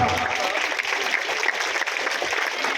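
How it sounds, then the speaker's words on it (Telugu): Steady, dense applause from an audience after a dance performance at a Christmas celebration in a garden venue in Jagtial, a continuous wash of many hands clapping at once with faint voices mixed in. "ఘనంగా చప్పట్లు కొట్టి అంతేనా?"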